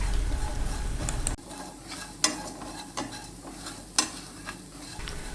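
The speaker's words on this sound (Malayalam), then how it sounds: "ഇത് നമുക്ക് കുറച്ച് നേരം കൂടി ഒന്ന് ഇളക്കാം" Dried prawns roast in a pan under repeated stirring. The scrapes are intermittent and fairly close, with a few sharper clinks of the utensil over a low sizzle.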